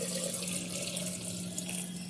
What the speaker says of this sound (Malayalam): ആ വെള്ളം ചേർത്ത് കൊടുക്കാം